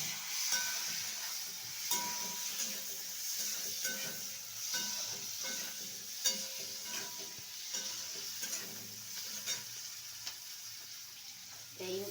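Ground paste of melon seeds, cashews and poppy seeds fries and is stirred in a pan, with a steady close sizzle and repeated scraping strokes throughout, no talking.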